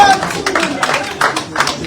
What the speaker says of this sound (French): vous fassiez un tonnerre d'applaudissements pour cette légende vivante de la rumba